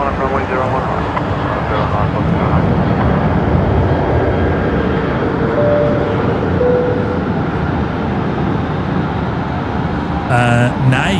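A jet airliner at Brisbane Airport lining up on runway 01 at night, a loud sustained engine roar dominating the scene, with speech mixed in and a brief burst of other noise near the end.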